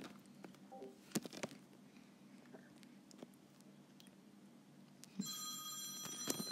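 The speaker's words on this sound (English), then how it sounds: "There's a phone call going on." A telephone rings near the end, a buzzy electronic trill that starts abruptly and repeats steadily, following quieter scattered clicks and taps; loud and close.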